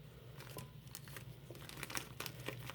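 Scissors snip around a glued filter on a Coloplast Sensura Mio ostomy pouch, making faint, close crinkles of plastic film and a few brief crisp cuts in an otherwise quiet room.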